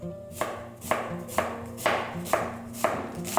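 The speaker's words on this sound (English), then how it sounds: "We cut vertically, then horizontally, and then vertically across." Knife chopping food on a cutting board for pollo alla cacciatora, seven sharp, evenly spaced strokes about half a second apart, close and fairly loud over a faint steady background hum.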